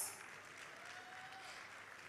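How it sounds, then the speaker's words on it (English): Applause from the audience at a Nexford University class of 2024 graduation ceremony, a soft, distant wash of continuous clapping that stays faint and even. "A round of applause"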